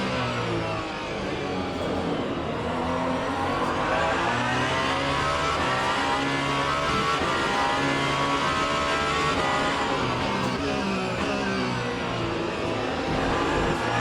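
Race car engines in the Le Mans Ultimate game drone loud and steady, pitch rising and falling as the car accelerates and shifts, with no talking over it.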